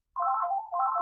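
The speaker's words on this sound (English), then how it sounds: "that's my phone, let's ignore that." A mobile phone ringtone trills out loud and close in a steady melodic pattern, running through the whole second with a brief dip partway, and no talking over it.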